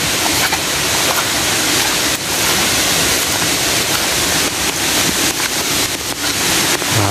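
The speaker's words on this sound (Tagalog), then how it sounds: "Grabe, lakas ng tubig dito." Strong rushing water of a stream or small waterfall roars loud and steady throughout, close by, with no talking.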